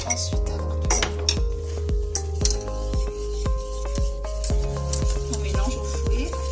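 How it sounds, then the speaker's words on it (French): A metal whisk beats flour into choux pastry dough in a pot just off the heat. Quick, regular clinks and scrapes against the pot sides come close and clear, with no talk over them. "on mélange au fouet."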